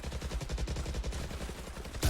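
Sniper rifle shot in Valorant during a pro esports match between ENVY and T1, heard within a dense burst of rapid gunfire, with a sharp loud crack at the very end.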